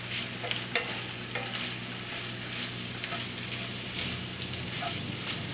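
Pepper mix being stirred into a sweet potato stir fry in a skillet, a continuous close sizzle with occasional soft scrapes and taps of the utensil, no voices.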